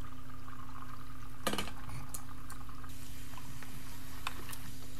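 Youtiao dough sticks frying in a pan of hot oil, a steady crackling sizzle with occasional sharper pops and a brief clatter of a utensil, no talking.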